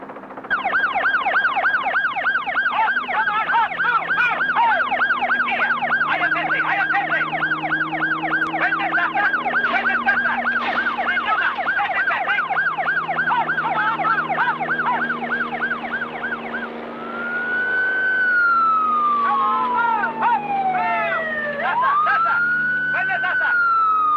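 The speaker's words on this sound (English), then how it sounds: "Ted Goss has equipped the helicopter with police sirens and a loudspeaker system." Police sirens blare from a loudspeaker on a helicopter herding elephants in the bush, a loud continuous rapid warbling wail that shifts into slower rising and falling sweeps near the end, over a low engine drone.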